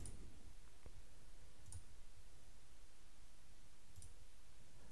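A few sharp clicks from a Logitech G502 Hero gaming mouse button, quiet and close against a faint background hiss, with no one talking.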